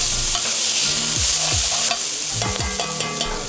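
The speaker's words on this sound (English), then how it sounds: "So we want to cook this veg down," Vegetables sautéing in a pan with a little meat grease, a steady close sizzle punctuated by repeated scraping strokes of a spoon or spatula stirring them around.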